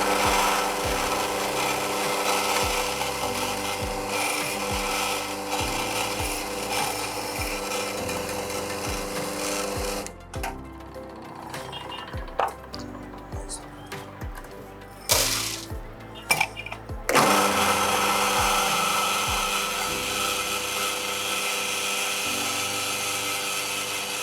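Coffee grinds in a grinder with a loud, harsh whirring roar for ten seconds, broken by a stretch of scraping and knocking, then the roaring grind starts up again.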